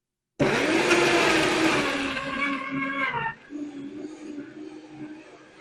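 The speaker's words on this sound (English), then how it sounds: "Our cats hate this blender." A loud blender roars at full speed, whining and grinding while processing tomato sauce, then drops to a lower, steadier hum as the load changes.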